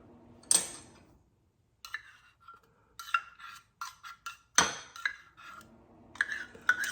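A utensil clinks and taps against a bowl as a sauce for smoked meatloaf is mixed, in short, irregular bursts of knocks and scrapes with quiet pauses between them.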